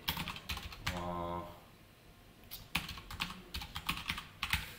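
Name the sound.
typing code on a computer keyboard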